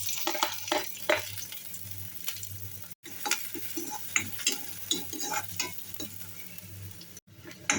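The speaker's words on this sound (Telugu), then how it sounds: "ఆయిల్ వేడైన తర్వాత సన్నగా కట్ చేసుకున్న ఆనియన్స్," Thinly sliced onions frying in hot oil in a pan, with a steady sizzle and repeated stirring scrapes and clicks near and moderately loud, a short break partway through and no talking.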